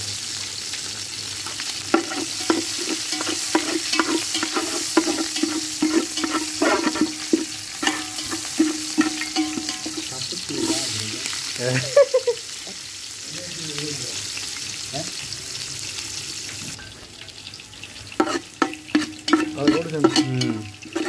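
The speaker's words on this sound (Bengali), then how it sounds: "সবজিটা আমরা তেলে দিচ্ছি।" Vegetables sizzle in hot oil while a utensil stirs and scrapes the pan in repeated clattering strokes. The sound eases briefly midway, then the sizzle and scraping pick up again.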